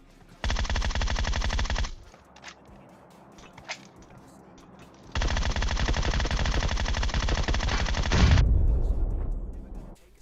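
Automatic gunfire rattles in two long bursts during a battle-royale video game firefight, loud and sustained. A quieter gap with scattered clicks separates the bursts, and the second burst ends in a low rumble.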